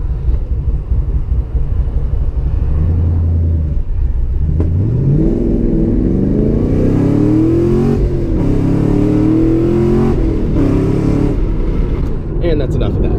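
A Chevrolet Camaro revs hard with its wheels spinning in first gear, the engine note climbing loudly in a long rising sweep after an idle, close and dominant, with a voice briefly heard over it.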